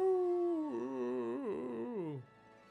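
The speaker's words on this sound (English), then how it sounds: "at least you can send your spirit off with a heroic howl" A wolf howls in the video game Okami HD: one long, loud, wavering cry that rises and bends in pitch, then trails off near the end, with little else beneath it.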